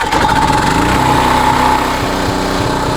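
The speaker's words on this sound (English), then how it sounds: "Oh yeah, okay, machine's on." A warm portable generator with its choke off runs steadily and loudly nearby, a continuous buzzing engine drone with a strong hum and no pauses.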